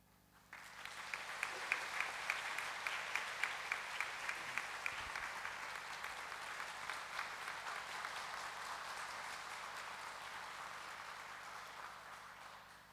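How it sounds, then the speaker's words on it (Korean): A church congregation applauds to welcome a missionary to the front, steady rolling applause building quickly and sustained for several seconds, with a rhythmic tapping accent early on, then fading gently. "우리 선교사님 나오실 때 우리가 박수로 환영하겠습니다"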